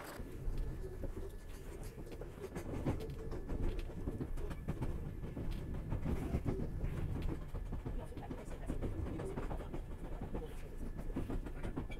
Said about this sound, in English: I've just got to the train station. It is literally dead and empty.